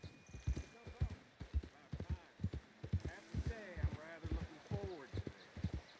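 Horse hooves clip-clopping in the Red Dead Redemption 2 video game, a steady run of hoof beats with an occasional whinny, heard under speech throughout.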